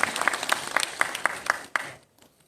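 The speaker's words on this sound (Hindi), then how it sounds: "एक बार जोरदार तालियां मनीषा मैम के लिए" Seminar attendees clap in unison for a speaker, loud, evenly spaced beats about four per second that break off abruptly near the end, leaving faint scattered claps.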